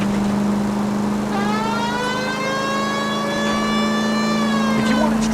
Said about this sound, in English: Turn the goddamn siren on.